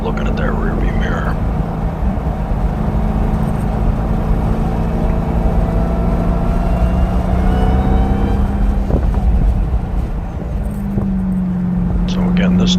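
A Dodge Charger R/T roars down the back straight of a race track, its engine droning steadily and close with a rising pitch as it accelerates, a faint voice murmuring underneath.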